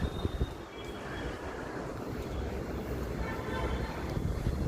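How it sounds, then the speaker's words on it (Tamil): Strong wind blowing outdoors in the evening, a rough, rumbling buffeting against the microphone that holds steady and swells slightly toward the end. "செம்மையான காத்துங்க"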